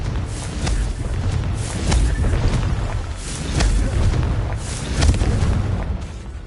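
Fire-spell explosions burst in Hogwarts Legacy, a series of rumbling booms and crackling blasts over a continuous low roar, several louder hits spaced a second or so apart.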